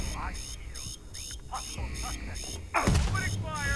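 An alarm in the Starfield video game pulses in repeated high beeps through the scene, mixed with voices, gunfire-like bursts and other game sounds.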